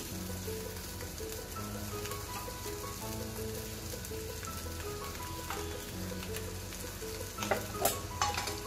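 A dry curry of boiled potatoes fries in hot oil in a pan, giving a steady close sizzle. Scraping and stirring sounds run through it, with a burst of louder clatter near the end.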